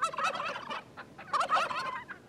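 A wild turkey gobbler lets out two rapid, rattling gobbles in succession, fairly close and clear against a quiet outdoor background.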